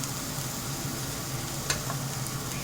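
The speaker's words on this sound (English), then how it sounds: "So just give one stir of the onions, and I'm going to add in the tomatoes." Onions frying in a pan for a smoked green tomato gravy are stirred while tomatoes go in. A gentle, fairly quiet sizzle runs throughout, with one brief scrape near the end.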